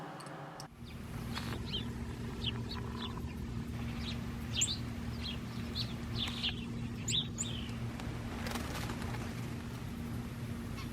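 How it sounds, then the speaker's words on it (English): Little garden birds chirp in short, scattered bursts over a steady low hum, the calls light and fairly distant, coming every second or so for about ten seconds. "those little birds we just heard"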